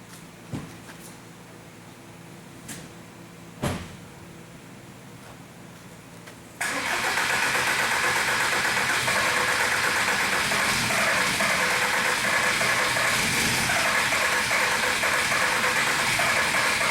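A 1998 Tdi diesel engine with a no-start and smoking fault cranks and catches after a few quiet seconds with light clicks, then runs steadily and loudly at idle nearby.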